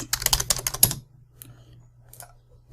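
A short burst of rapid typing on a computer keyboard, close and crisp, lasting about a second before a near-silent pause broken by a couple of lone keystrokes.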